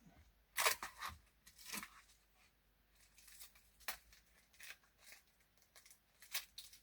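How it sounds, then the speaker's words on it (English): Packing tape being pulled and pressed onto a package, a run of short, crackly tearing and crunching bursts, close and fairly quiet, with no voices. "Let's put some more tape on that."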